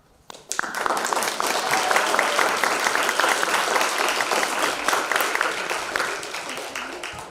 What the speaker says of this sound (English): I would like this class to give you all a round of applause